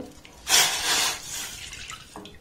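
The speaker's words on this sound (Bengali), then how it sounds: "কড়ার মধ্যে সামান্য একটু জল দিয়ে দিলাম।" A small splash of water is poured into a wok set over a gas stove for cooking, a short bright gush lasting about a second, then trickling off into quiet kitchen noise.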